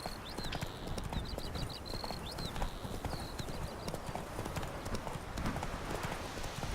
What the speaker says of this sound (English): Just ride the horse.